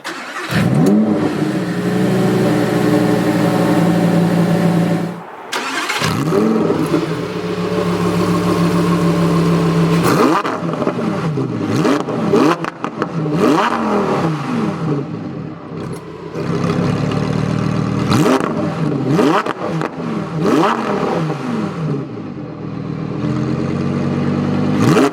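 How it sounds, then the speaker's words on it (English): A 2020 Lamborghini Huracan Evo starts up with a loud crank and roar, then its engine is revved repeatedly in sharp rising-and-falling bursts with brief pauses between, close and powerful throughout. "we can go ahead and start it up."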